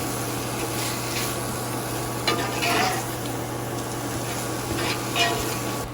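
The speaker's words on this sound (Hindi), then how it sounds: "अब इसको आपने मिक्स कर लिया बहुत अच्छी तरीके से" Shredded green and tandoori chicken being stirred and mixed in a pan, a steady soft sizzle broken by a few scraping strokes of a spoon, close and moderately loud with no talking.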